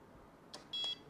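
A Welock smart door lock gives a short electronic beep, then a second, longer beep as it unlocks, both quiet and close against a faint steady hiss.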